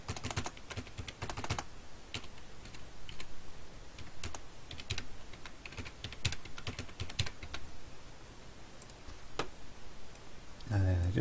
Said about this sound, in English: so I'm just going to type them in.